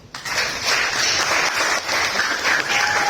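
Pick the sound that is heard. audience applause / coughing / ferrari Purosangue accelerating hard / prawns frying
audience applause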